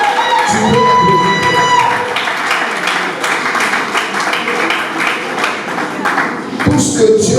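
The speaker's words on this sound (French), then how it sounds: "est-ce que tu peux applaudir très fort? Tu peux applaudir." Loud sustained applause and cheering from a crowd at a 50th birthday celebration, dense clapping continuing throughout with voices mixed in and a brief whistle-like tone early on.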